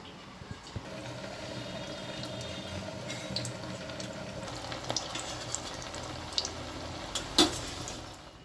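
Potato rings fry in hot oil with a continuous, bubbling sizzle, faint crackles and small pops scattered throughout and one sharper clink near the end, with no voices.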